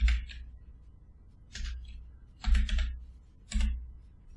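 A computer keyboard clatters in four short bursts of quick keystrokes, close and fairly quiet, with brief pauses between them.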